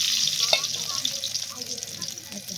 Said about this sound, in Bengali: মাছ ভাজার তেলটাতেই জিরে ফোড়ন দিয়ে আমি কিন্তু সবজিগুলো ঢেলে দিলাম।